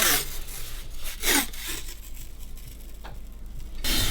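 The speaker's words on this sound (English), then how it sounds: "So grab the masking tape and just run it round the bits of the timber" Masking tape is pulled from the roll and run around exposed window timber, producing close, brief tearing and rubbing bursts at the start, in the middle and at the end over a quiet background.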